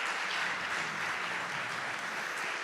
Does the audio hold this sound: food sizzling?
no